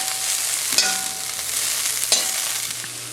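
Vegetables sizzle steadily in hot oil during a stir-fry, a loud continuous hiss broken by a couple of sharp clanks of a utensil against the pan.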